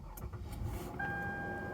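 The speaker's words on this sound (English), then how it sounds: "Go ahead and do that and your car should start" A Toyota car engine cranks and catches after a press of the push-button start switch, a short whirring start settling into a steady idle.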